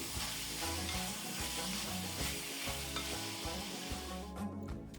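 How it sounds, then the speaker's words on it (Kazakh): Chopped meat sizzles loudly in hot oil in a cauldron while it is stirred, a steady frying hiss broken by scraping stir strokes, close up and without voices. "Етімізді жақсылап тұрып араластырамыз"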